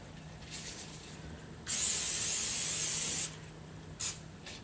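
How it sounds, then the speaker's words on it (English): A short hiss of cooking spray onto a baking sheet for under two seconds, then a quick second burst, close by in a quiet room. "take that cooking spray and spray your sheet."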